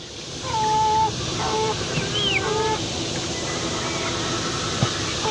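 Chickens gathered by a coop door give soft, scattered clucks and short calls over a steady background hum, fairly quiet and unhurried.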